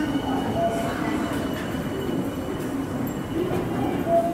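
A Tokyu Toyoko Line train runs steadily, its rumbling wheels and car noise forming a continuous close drone, with faint squeals now and then.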